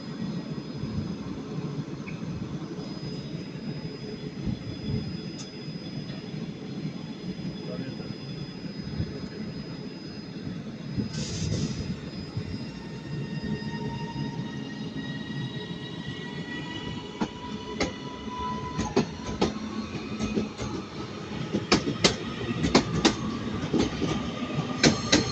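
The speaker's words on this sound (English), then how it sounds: "departing now is going to be the 1304 northern service to Manchester Airport," A Northern train pulls out of Manchester Piccadilly station, a low continuous rumble with rail squeals and clatter building toward the end, heard from the platform amid faint station ambience.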